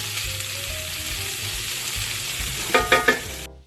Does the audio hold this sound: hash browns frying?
yes